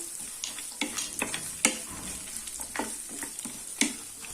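Carrot and mixed vegetables sautéing in a pan for lemon rice, a steady soft sizzle broken by repeated scraping stirs of a spoon against the pan, fairly quiet and close, with no talking.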